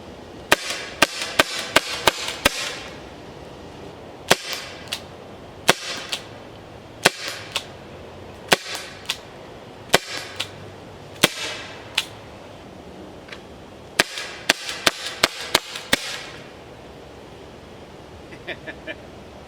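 A Byrna HD personal security launcher firing rounds, sharp close pops in quick bursts and single shots spread across the stretch, with a faint voice in the background.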